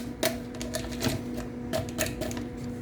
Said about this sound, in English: Tupperware kitchen shears. Best scissors I've ever used.